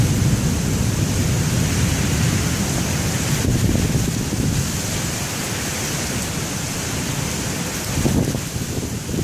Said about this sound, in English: Nice blast of air there.